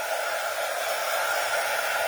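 A heat gun used for stamping onto non-shed glitter card blows a steady, even rush of hot air as it warms up, loud and close, with no talking.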